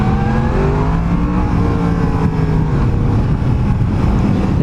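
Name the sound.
Yamaha FZ-10 motorcycle engine while riding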